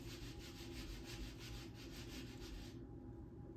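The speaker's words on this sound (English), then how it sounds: "My husband is sanding outside my door here." Steady rhythmic rasping of sanding, faint and muffled from outside a closed door, strokes repeating evenly before fading out.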